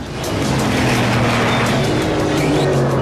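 Bugatti Veyron at full power on a runway track near 188 mph, a loud continuous engine roar with steady high-pitched whine, close and unbroken for three seconds, no talk.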